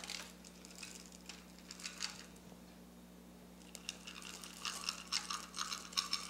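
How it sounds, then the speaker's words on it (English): Chocolate chips sprinkled by hand over a tray of hot oatmeal caramel bars, giving soft scattered patters and light ticks in two bursts with a pause between them, quiet and close. "take our chocolate chips and we want to sprinkle those right on"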